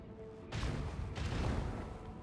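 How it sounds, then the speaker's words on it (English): Heavy booming macro cannon fire in a video game erupts after a short quiet hum, two deep blasts rolling into a sustained, rumbling barrage. "Macro cannons, open fire."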